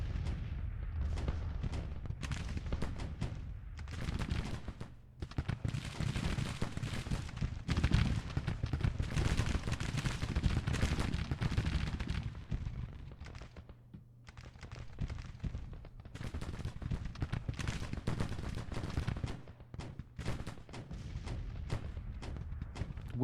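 Civil War artillery and musket fire in Grand Tactician, dense, rapid crackling volleys and heavy booms that roll on continuously at mid distance, briefly easing before resuming.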